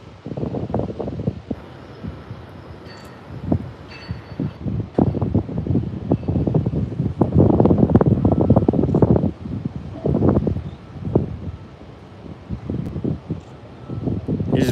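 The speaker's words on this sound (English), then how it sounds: "It's very windy out here." Strong wind buffets the microphone on an ocean dune at Boca Chica beach near the SpaceX Starbase launch site, a loud, continuous rumbling roar with gusty surges that rise and fall throughout.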